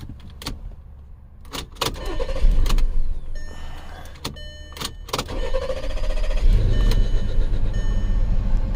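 A 2008 Volkswagen Passat 3.6 engine with a misfire cranks for an extended time on a jump pack, then catches and idles roughly, with clicks and clunks over a steady low rumble.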